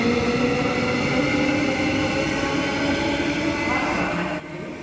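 A non-service electric train passes through Joondalup station, a loud, steady rumble and rail roar that holds for several seconds before dropping off sharply near the end.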